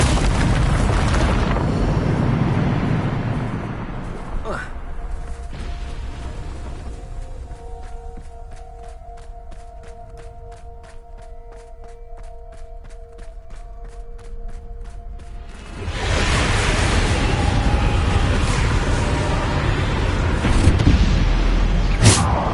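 A Bombarda explosion spell in Hogwarts Legacy detonates as heavy booming blasts at the start and again later, separated by a quieter stretch of tonal game sounds.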